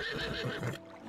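A horse in Zelda: Breath of the Wild gives a short, wavering whinny, close and fairly loud, cutting off abruptly partway through with a faint tone trailing after.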